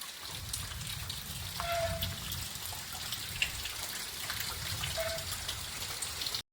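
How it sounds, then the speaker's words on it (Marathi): Rain-swollen stream water flows steadily in a village in Konkan, a constant broadband rush with low rumble and no voices. "पाऊस एवढा लागलाय ना व्हाळीला पाणी बघा किती आलंय ते"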